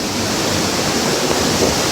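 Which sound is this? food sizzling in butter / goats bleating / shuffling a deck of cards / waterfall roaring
waterfall roaring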